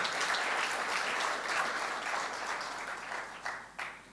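A crowd at a World Philosophy Day keynote applauds Prime Minister Tun Dr. Mahathir with dense, steady clapping that fades slightly toward the end.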